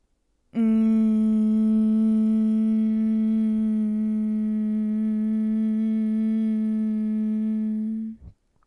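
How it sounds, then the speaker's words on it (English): One long, close hum made with lips sealed on a deep exhale, holding a steady pitch for nearly eight seconds and then cutting off, during a guided humming breath. "seal your lips to hum it out"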